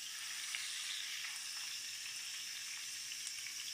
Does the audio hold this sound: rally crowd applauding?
no